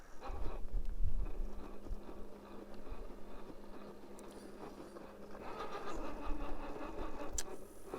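Rear-steer competition rock crawler truck crabbing through Coyote Canyon, its engine a low, fairly quiet drone that rises and falls in revs, with scattered knocks and scrapes from the rocky ground.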